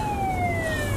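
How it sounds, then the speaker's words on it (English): A police car siren wails steadily and loudly in the street beside a car, its rising-falling tone held clearly above low traffic rumble through the whole moment. "Oh, there's another police car."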